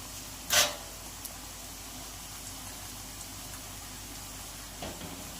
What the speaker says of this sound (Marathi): तर मीडियम गॅसवरच ह्या पापड्या आपल्याला छान अशा फ्राय करून घ्यायच्या आहेत